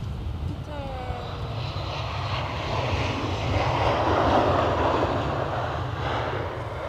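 A Qatar Airways airliner landing at Edinburgh Airport, a loud, continuous engine roar that swells toward the middle and then eases slightly, heard from nearby at the airfield.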